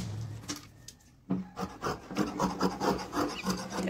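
Scissors snip and rasp through blouse fabric being cut on a table, a quiet pause then a steady run of scraping, rubbing strokes close up with no talking.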